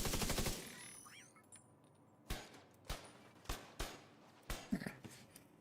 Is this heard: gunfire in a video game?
yes